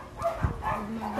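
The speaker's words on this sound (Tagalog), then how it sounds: "Ingay naman ang mga aso ko." A dog gives short, yappy barks and a faint whine, somewhat distant and soft, with no one talking.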